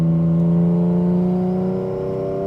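A 950 hp twin-turbo Nissan 350Z running on pump gas with its turbo dumps open holds a loud, close, steady engine drone with strong even harmonics that sag slightly in pitch, heard alone without talk.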